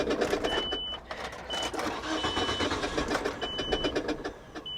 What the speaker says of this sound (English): The balancer on the crank pulley has come detached, and that's what's making that noise.